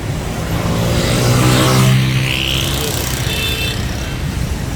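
Heavy road traffic on Mall Road in Lahore, a continuous roar of engines with a vehicle revving and passing close, loud throughout with no clear talk.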